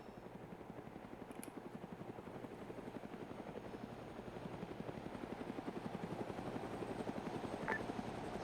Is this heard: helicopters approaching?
yes